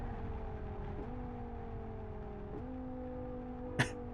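A modded car engine in the Live For Speed racing game, heard from outside the car, holds a quiet, steady droning tone that dips briefly in pitch twice, then ends with a short sharp click.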